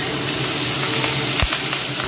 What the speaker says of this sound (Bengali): আমার আলুগুলো একটু লাল লাল করে ভাজা হয়ে গেছে, এবার আমি এতে পেঁয়াজ রসুন আদা কাঁচা লঙ্কাটা দিয়ে দিচ্ছি